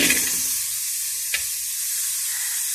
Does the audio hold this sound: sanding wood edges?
no